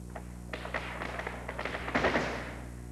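Light foot taps and thuds from Celtic dance steps on a hard floor come in a quick rhythmic run, faint and close, ending in a cluster of firmer stamps.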